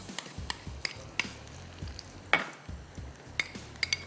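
Onion, ginger and garlic stir-fried in a pan for fish and chips, with a soft steady sizzle beneath a series of sharp spoon scrapes and clinks against the pan, heard alone and fairly quiet.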